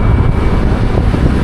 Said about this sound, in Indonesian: Anginnya Pantura kencang banget,